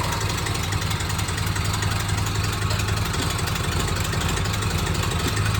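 An old budget truck engine idles roughly and loudly without a break, with a steady low throbbing and an uneven knocking pulse under a broad mechanical roar.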